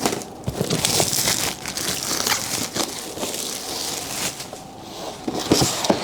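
Plastic wrapping on a Mercusys AC1200 dual band wireless router box is crinkled and torn away, producing continuous close, loud crackling and rustling with sharp crunchy bursts throughout.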